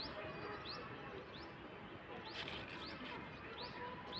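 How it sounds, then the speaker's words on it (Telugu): Birds in a guava tree give short faint chirps at intervals over a steady outdoor hiss, distant and quiet. "చూడండి ఎన్ని బర్డ్స్ వస్తున్నాయో, ఎండలు బాగా తడవడం వల్ల."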